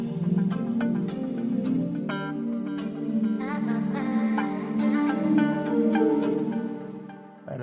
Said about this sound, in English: I needed a guitar just to fill up everything